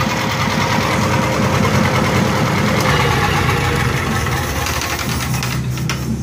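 A Lincoln SA200 welder engine idles loud and close, a steady rough rumble with a rapid mechanical patter that holds throughout and eases slightly near the end.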